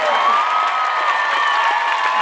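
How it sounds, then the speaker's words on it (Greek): A packed live hip-hop concert crowd in Athens roars with sustained cheering and whooping, loud and continuous, with a few voices rising above the general din. "θέλω ένα μεγάλο χειροκρότημα για τους παραγωγούς του δίσκου"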